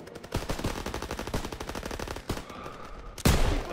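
Rapid automatic machine gun fire in a World War II shooter game, a long sustained burst of evenly spaced loud shots, a short pause, then a heavier blast near the end.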